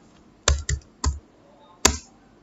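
Four separate taps on a computer keyboard, close and crisp, three quick keystrokes followed by a pause and one final louder press, in an otherwise quiet room.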